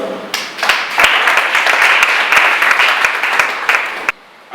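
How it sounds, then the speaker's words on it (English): Workshop audience clapping together on request, dense steady applause lasting about four seconds and then stopping abruptly, heard fairly close and loud with no talk over it. "Can you clap for me?"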